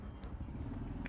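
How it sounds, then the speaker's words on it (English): A vehicle passes through a Bangkok alley in a street-food field recording, a low steady engine rumble at a distance with faint clatter and footsteps mixed in, quiet overall and brief. "Somebody driving past."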